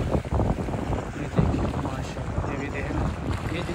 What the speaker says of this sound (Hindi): देखें पानी की जब लहरें आती है कैसी आवाज़ पैदा होती है